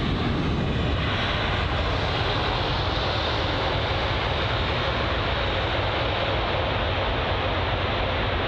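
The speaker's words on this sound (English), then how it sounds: "it was a nice and smooth landing for us" Airliner landing at London Heathrow, a continuous loud roar of jet engines and rushing air that holds steady and close throughout, with no voices.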